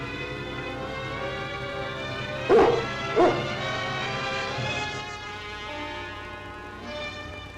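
A sled dog in a Yukon radio drama gives two sharp, close barks in quick succession, followed by soft whimpering yips over a steady background hum.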